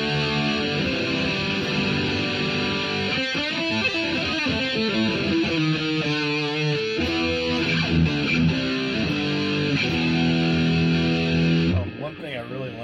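Electric guitar played through the bridge pickup in full humbucker mode with distortion, a sustained, thick, saturated tone running continuously with chord changes and ringing notes, loud and close throughout.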